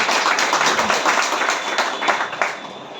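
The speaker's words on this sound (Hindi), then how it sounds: "जोरदार ताली।" An audience at a business success talk breaks into loud, sustained applause, many hands clapping densely before the sound gradually thins out.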